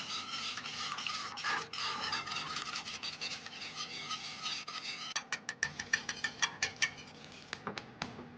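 Kitchen whisk scraping and rasping against a bowl, steady rubbing at first, then a quick series of sharp ticking strokes near the end, close and fairly quiet.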